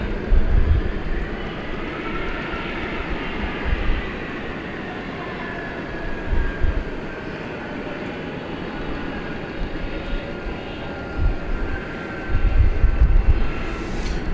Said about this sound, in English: That was a NetJets Cessna Citation Longitude arriving from St. Paul, Minnesota.